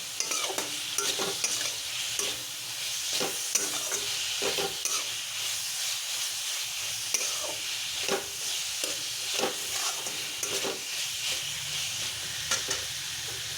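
Boiled mushrooms sizzle steadily in a hot frying pan while a utensil stirs and scrapes through them, making soft irregular clicks over the constant hiss.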